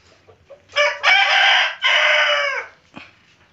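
A rooster crows once, loud and close, in a long drawn-out call with a brief break in the middle, at a poultry keeping where chickens are given an herbal tonic; a few soft background noises surround it.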